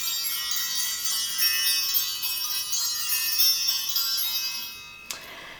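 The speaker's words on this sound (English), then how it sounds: "I want to ring the bells, create some sacred space around this reading" Bells rung before a tarot reading, a bright shimmering cluster of high metallic tones sustained and ringing together, fading out near the end before a final faint tap.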